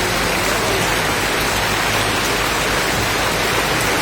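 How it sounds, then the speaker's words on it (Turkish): Heavy rain pours down outdoors as a storm brings hail, a dense, steady roar of water hitting surfaces that fills the whole clip with no talking. "Yağmur çok iyi yağıyor."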